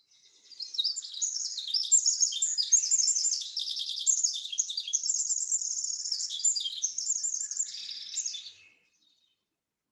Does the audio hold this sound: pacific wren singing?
yes